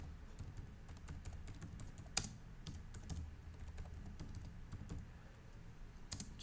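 Keys on a computer keyboard tapped in an uneven, fairly quick run of soft clicks, with a couple of sharper strokes standing out, close by and moderately quiet with no talking.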